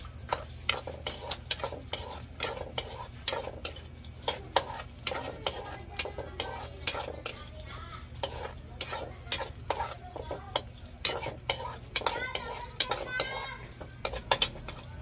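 Chopped ginger sizzling in a hot pan as the base for Filipino chicken tinola, a steady frying hiss broken by frequent sharp clinks and scrapes of a utensil stirring against the pan, close and moderately loud with no talking.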